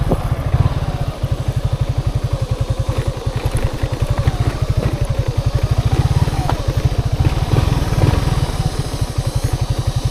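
A motorcycle engine running close by, a loud, rapid, steady putter with some clattering, continuous for the whole stretch.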